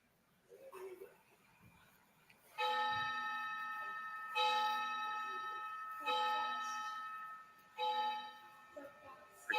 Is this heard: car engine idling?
no